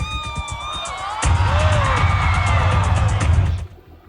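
A performer's fall from a ladder during a live show: a sudden loud thump cuts in, then a sustained crowd roar of gasps, shouts and whoops that fades out abruptly.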